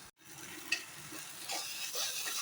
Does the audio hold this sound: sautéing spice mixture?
yes